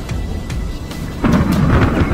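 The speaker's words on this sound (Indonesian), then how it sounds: "datanglah badai yang dahsyat" A violent storm sound effect with heavy rolling thunder and driving rain, loud and constant, swelling into a stronger rumbling crash about halfway through.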